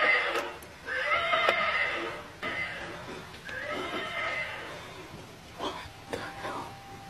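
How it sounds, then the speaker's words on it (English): A horse neighs and whinnies in several drawn-out bursts, fairly close and loud, with faint clip-clop and some background noise between calls. "Is that your horse?"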